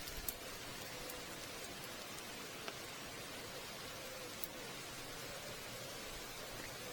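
Rain-like patter of drops falling from an overhanging tree onto a coat beside a fishing pool, a steady soft hiss with a few sharper close taps standing out now and then.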